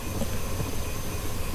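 A steady rumbling train in the game Choo Choo Charles runs along with a constant mechanical hum and faint rhythmic clatter, continuous and fairly close.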